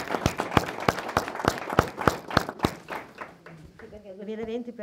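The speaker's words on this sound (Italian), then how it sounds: "voglio fare un applauso" Conference audience at a mountain-affairs meeting clapping in a sharp, near, rhythmic pattern of single claps that fades as a voice starts talking.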